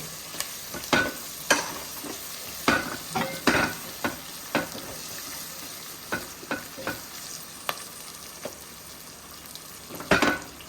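Green chilies and onions frying in a pan, a continuous sizzle broken by repeated sharp stirring scrapes and clacks of a spoon against the pan, close and fairly loud, no voices.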